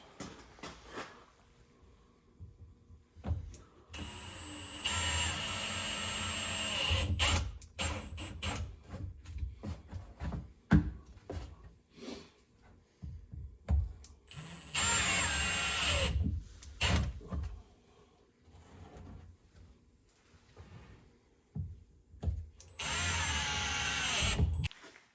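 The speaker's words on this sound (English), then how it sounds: "So the holes are drilled." A power drill bores three holes into a sandblaster being fixed up, with three separate whining bursts spaced by quiet handling noises and clunks.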